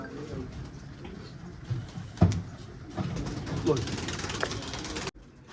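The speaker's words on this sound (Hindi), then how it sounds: "जैसे ये क्रॉस में है कबूतर" A crossbred pigeon coos nearby in soft, low bursts while someone talks over it.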